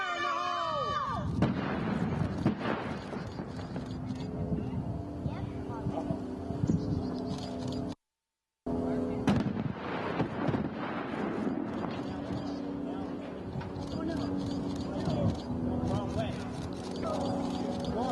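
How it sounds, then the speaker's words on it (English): Demolition blast toppling a 1927 power plant smokestack during a power plant cleanup project: loud, rumbling explosive booms and crashing debris heard from a distance, with a crowd talking and a brief gap midway. "Excitement building up to watch a stack that's been here since 1927 fall"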